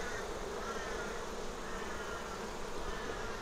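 Honey bees swarm around hive frames during a spring inspection, filling the air with a dense, continuous buzzing drone that stays close and steady throughout, with no talking.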